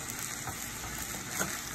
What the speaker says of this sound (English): I'm gonna let it stay there and fry